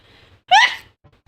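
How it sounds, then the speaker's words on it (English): A single sharp sneeze, loud and close, with a faint breathy intake just before it and a quiet trailing breath afterward. "Me when I sneeze."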